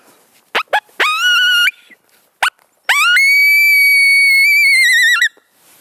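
A handheld reed call imitates a coyote: a few short yips, then a long, loud, wavering howl held for several seconds before cutting off.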